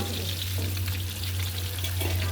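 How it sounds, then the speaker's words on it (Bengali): Onions frying in a pan for pulao, a dense, steady sizzle with a low hum of the stove underneath, continuous and close without any talk. "এখন পোলাও রান্নার জন্য পেঁয়াজ ভাজা হচ্ছে, আর এখানে ডিম সিদ্ধ ভাজা হচ্ছে।"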